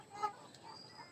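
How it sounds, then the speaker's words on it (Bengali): Tiger breed chickens about three months old, kept in a fenced veranda pen, clucking faintly with a brief soft cluck amid low background noise. "এই বয়সের মুরগিগুলো আমার।"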